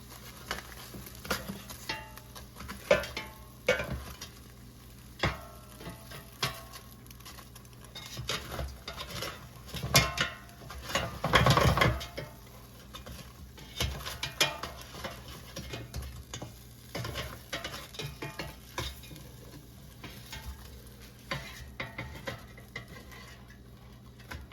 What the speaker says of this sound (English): let's take out the air fryer basket. And I'm going to flip them over so they cook more evenly